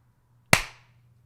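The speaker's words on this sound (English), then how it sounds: "Oh yeah, let's do a clap." One sharp, close hand clap made for an audio sync test cracks out of silence, with a short decaying ring afterward over a faint low hum.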